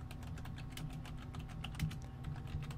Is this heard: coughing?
no